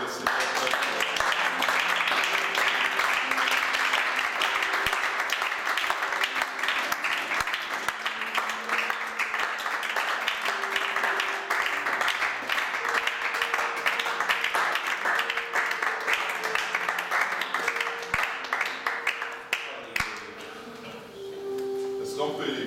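A church congregation applauds to acclaim the Lord with sustained, dense clapping from a large crowd, while a voice and cheering rise over it before the applause fades near the end.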